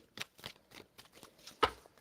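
A tarot card deck being shuffled in two short passes, giving a series of quick soft riffling bursts close by that end in one louder snap of cards.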